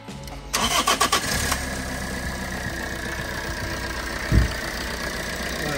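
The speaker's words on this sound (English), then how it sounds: "I'm going to start the car now." A Toyota Auris with a failing alternator, on a jump starter, cranks in a rapid stuttering burst, catches, and settles into a steady close idle.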